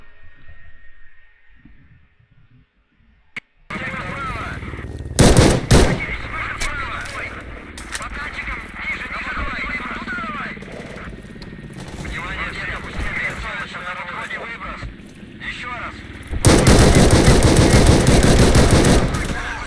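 Automatic gunfire rattles in the Stalker Radiophobia 3 shooter game: a short loud burst, then a long sustained barrage near the end, while someone talks over the quieter stretches in between.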